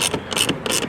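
A ratchet snugs 8 mm screws on a 2024-2025 BMW 840i M-Sport, giving three quick bursts of close, crisp clicking in under a second.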